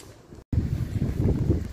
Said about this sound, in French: franchement il y a du vent